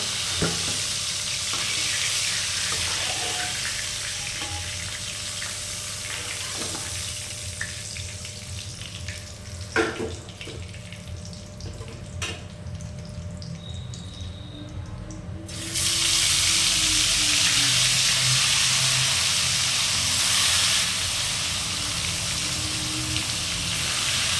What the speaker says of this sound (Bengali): একইভাবে এই মাছগুলো আমরা লাল করে একটু ভেজে নেব।